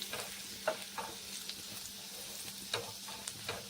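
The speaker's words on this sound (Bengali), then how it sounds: "রসুনের কাঁচা গন্ধটা চলে যাওয়া পর্যন্ত রসুনটা ভেজে নিতে হবে" Garlic sizzles in hot oil in a pan, a quiet steady frying hiss broken by a few soft stirring scrapes and clicks, with no talking.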